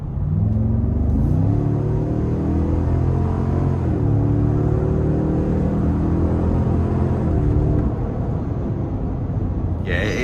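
A 2026 Cadillac Escalade Platinum with the 6.2 V8 pulls hard in sport mode, its steady engine rumble rising in pitch through the gears from the cabin, loud and continuous with gear shifts audible.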